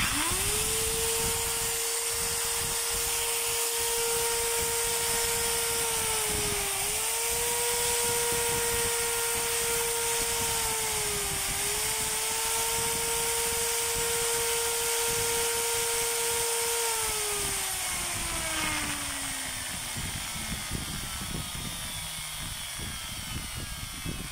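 A repaired electric power tool motor, fitted with armature, field coil and carbon brushes, runs at a steady high whine on test, dipping briefly twice as if hesitating, then winding down near the end; no voices.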